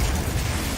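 In Hogwarts Legacy, a Confringo spell goes off as a loud, dense burst of explosive noise that fills the moment, heavy and close, with no pause and no talk.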